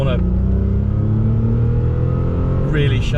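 An MG ZT 190 engine roars steadily at high revs, loud and close, with a brief voice at the start and end.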